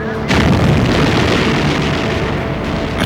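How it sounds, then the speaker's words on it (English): A huge, deep wartime explosion booms and then lingers as a dense, loud rumble that fills the whole stretch without fading. "A terrific explosion."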